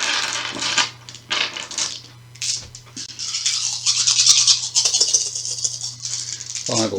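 Twelve dice tumbling and rattling across a table during a game of Shadows of Brimstone, a clattering spill of plastic clicks over a few seconds, set against a steady low hum with talk mixed in.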